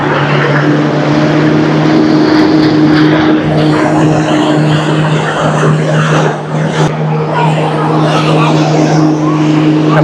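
A boat engine drones loud and steady with a strong low hum and broadband wash of wind and water, cruising slowly out of Dubai Marina toward the open sea.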